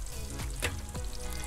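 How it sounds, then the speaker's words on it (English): Mushrooms sauté for a steak sandwich on a Big Green Egg charcoal grill, giving a steady crackling sizzle with a couple of brief stirring clatters. "Let's start by sauteing our shrooms. Sizzle, sizzle, baby."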